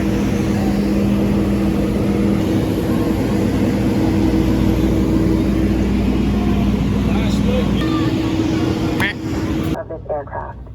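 A Dash 8 turboprop airliner at the gate gives off a loud, steady propeller and engine drone with a tonal hum, close by, until the sound cuts out near the end.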